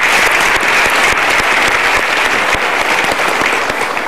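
Studio audience applauding in a television talk show studio, dense steady clapping filling the whole stretch at full loudness with no voices over it.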